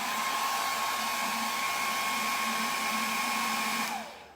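A hair dryer blows steadily with a constant whining hum and airy rush, then switches off and winds down at the end.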